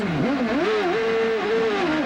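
A 1995 CART Indy car at Portland revs hard in an onboard view after the driver struggles to find a gear, the engine note dipping and climbing before holding a high, loud, steady whine.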